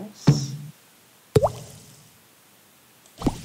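Bubbles pop in the Bubble Witch 2 Saga game as three separate soft plopping, bursting effects with quiet gaps between them, clear and close with no talking.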